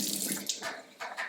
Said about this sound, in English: start to fill it up with the warm water